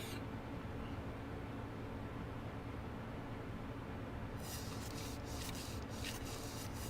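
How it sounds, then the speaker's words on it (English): Steady, even rubbing and scraping of a mirror being sanded in the video game A Sky Full of Stars, a continuous close grinding texture that runs the whole time with no talking. "The simple repetitive work of sanding the mirror was enough to keep me awake a little longer."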